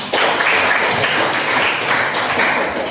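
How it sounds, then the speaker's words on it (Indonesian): An audience of students claps together in a classroom, giving a steady burst of dense applause that fills the whole moment. "Tepuk tangan untuk kita."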